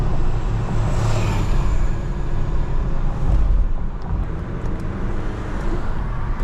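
Mercedes GLC 300 4matic turbocharged engine heard from inside the cabin on paddle downshifts, a steady loud drone of engine and road noise with a faint turbo whoosh and little distinct shift sound.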